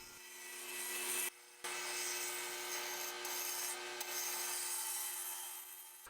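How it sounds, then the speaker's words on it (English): Cocobolo wood mallet being sanded on a lathe, a steady close abrasive hiss with the spinning hum underneath, broken by a brief pause near the start and a couple of short dips later. "I got the piece to where I wanted it and moved on to sanding."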